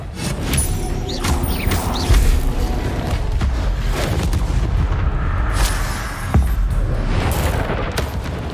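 The Incendio fire spell is cast during combat in Hogwarts Legacy, heard as loud, repeated booming bursts and rumbling impacts over a dense, continuous layer of game noise.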